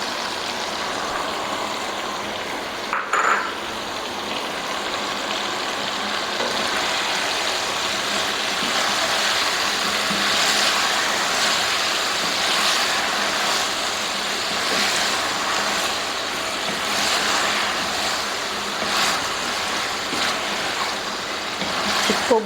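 Potatoes and eggplant fry in a pan, giving a steady, even hiss and sizzle that runs close and unbroken throughout, with no talk.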